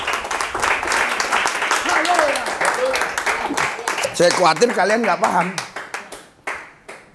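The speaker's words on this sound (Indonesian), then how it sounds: "Kok nggak ada tepuk tangan?" A church congregation claps during a pastor's sermon, rhythmic hand claps under his loud, animated preaching voice, thinning into a few scattered claps toward the end.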